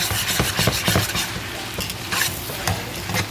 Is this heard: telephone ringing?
no